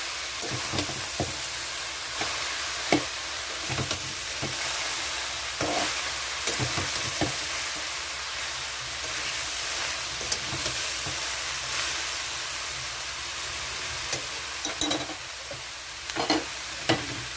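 Elephant foot yam stems sizzle steadily in a pan while a spatula scrapes and stirs at irregular intervals, the clatter rising above a constant frying hiss.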